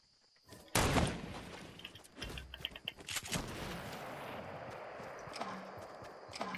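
Gunfire in a battle video game as shots hit a porta fort: a sudden loud burst, then repeated sharp cracks and rapid volleys continuing at varying distances.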